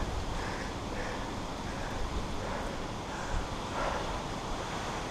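Strong wind gusting across the slopes of Mt. Scenery on Saba, a steady loud rushing roar with microphone buffeting, no talk.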